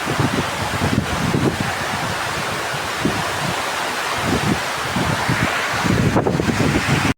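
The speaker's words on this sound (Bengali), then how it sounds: "বাতাস আর বৃষ্টি।" Steady wind with a morning rain shower, a continuous broadband rush and hiss that swells slightly in places, loud and close to the microphone, with no voices.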